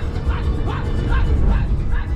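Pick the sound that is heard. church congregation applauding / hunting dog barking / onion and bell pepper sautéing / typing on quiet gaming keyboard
hunting dog barking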